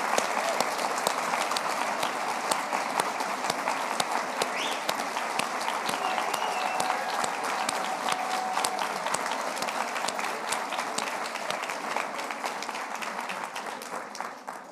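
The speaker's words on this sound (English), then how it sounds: "let's give all of the students one more round of applause." Audience at a physical therapy white coat ceremony gives the students a sustained round of applause, dense clapping with scattered sharp claps and faint crowd murmur throughout.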